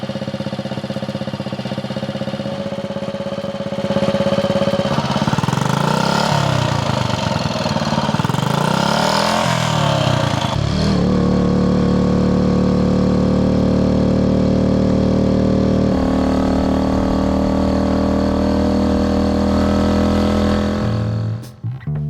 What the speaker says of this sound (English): Old Muffler is not a good reference on how an original muffler should sound